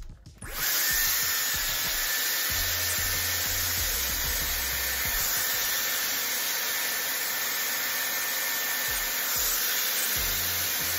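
A Dyson AirWrap drying a full head of hair runs as a loud, steady high-pitched airflow whine and rushing hiss, starting abruptly and continuing without a break, close to the listener.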